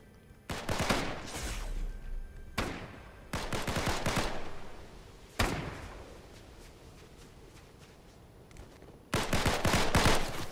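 Bursts of gunfire from the video game Fortnite: several loud clusters of rapid shots separated by short pauses, with a sharp single report near the middle.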